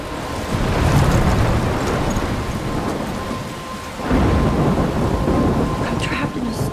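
A thunderstorm in the video game Life is Strange: heavy rain hisses continuously while deep thunder rumbles build, fade, then surge again in a second loud roll.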